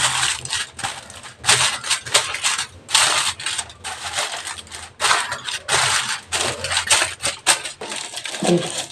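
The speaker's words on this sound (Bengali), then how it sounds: "সসপ্যানের পেছনে কি করব, একটা অ্যালুমিনিয়াম ফয়েল লাগিয়ে দেব।" Aluminium foil crinkled and wrapped around a saucepan for cake baking, repeated close crackling and crumpling bursts in irregular rhythm, with no voices.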